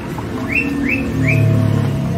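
A zebra dove gives three soft, rising calls in quick succession, rhythmic cooing notes over a low background hum of traffic.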